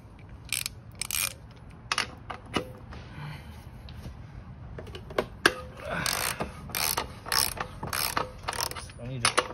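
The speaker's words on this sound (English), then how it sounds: "Okay, I'm gonna get another wrench." A 27 mm wrench loosening a bolt on a Zero SR electric motorcycle during belt tension adjustment, with rapid ratcheting clicks in short bursts and metallic clinks, close up and without speech.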